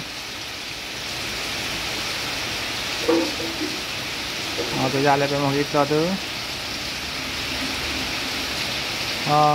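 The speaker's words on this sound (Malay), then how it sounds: "Hujan tak berhenti lagi tengah lebat." Steady heavy rain during a 2025 flood hisses as a constant wash of noise, with a voice speaking briefly in Malay over it midway.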